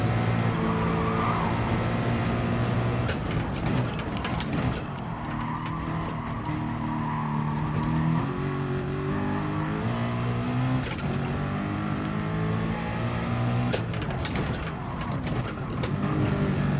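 A Nissan R92CP race car in Gran Turismo Sport holds a loud, continuous engine note that rises and falls through gear changes and corner exits, with occasional tire squeal.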